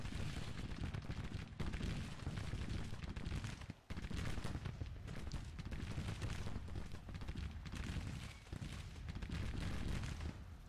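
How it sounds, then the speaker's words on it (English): Troops fire their guns continuously in a Civil War strategy game. Dense, loud volleys of gunfire roll in a near-unbroken barrage that dips briefly about a third of the way through. "My guys are firing non-stop."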